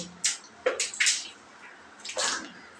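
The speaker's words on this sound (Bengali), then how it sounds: "এবারে দেখো আমি এবার জল দিয়ে এবার পরিষ্কার করবো" Water splashes and gushes in a few short bursts across dirty bathroom tiles being rinsed clean, close by and moderately loud, with quieter gaps between pours.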